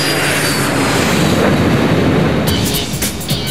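Airliner engines roaring loudly and steadily during takeoff, a dense broadband rumble heard from inside the cabin with a few faint rattles near the end.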